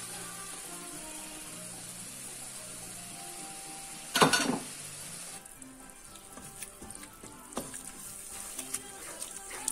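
Liver curry with tomato sauce sizzling in a pan, a soft steady fry with one loud burst of scraping and sputtering midway, then lighter intermittent stirring clicks, close but fairly quiet.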